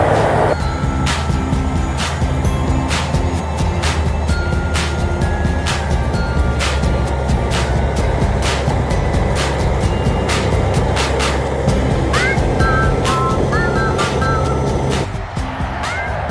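A 60,000-pound eight-wheel articulating tractor runs close by with a steady heavy engine drone and a regular ticking pulse throughout, with a few brief chirps near the end.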